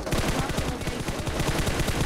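Rapid automatic gunfire in the video game PUBG Mobile, a dense, loud, continuous stream of shots with steady rhythm throughout.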